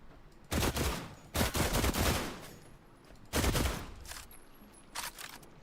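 Bolt rifle gunfire in The Last Caretaker video game: four loud, sharp shots with reverberant tails, spaced unevenly about a second or more apart, with no talking.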